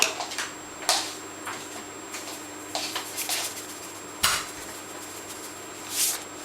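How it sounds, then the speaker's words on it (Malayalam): Chicken-vegetable pie filling being stirred in a cooking pot, with scattered light metallic clinks and scrapes of a spoon against the pot, close and fairly quiet, with pauses between strokes. "എന്നിട്ട് നല്ലോണം ഒന്നുകൂടെ ഇളക്കി കൊടുക്കാം"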